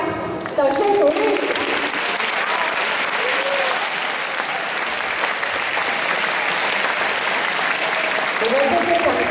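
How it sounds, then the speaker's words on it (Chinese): Sustained audience applause at a 2012 school life-education lecture, dense and steady for about nine seconds, with a voice speaking over it near the start and again at the end. "掌声鼓励"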